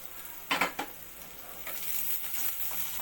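Garlic and ginger hit a small amount of hot oil with onion while cooking restaurant-style matar paneer, giving a near, steady sizzle with a couple of brief stirring clatters at the start and no talking.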